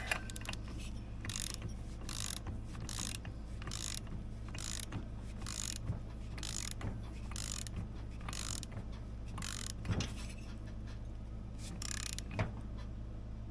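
A ratcheting torque wrench tightens a bolt on a 1979 Polaris Gemini vintage single-cylinder snowmobile, with steady rapid clicks in repeated strokes, close and clear over a low hum.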